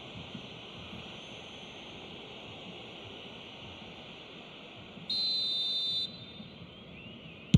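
A referee whistle in the eFootball 2025 video game gives a single sharp blast, about a second long, awarding a free kick. It cuts through steady stadium crowd noise.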